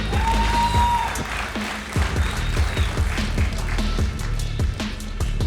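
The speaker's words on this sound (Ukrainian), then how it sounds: "Давайте підтримаємо його гучними оплесками, друзі." Audience applause for a boxer entering a bare-knuckle fight, sustained clapping from a crowd under music and a faint announcer voice, with steady rhythmic thumps throughout.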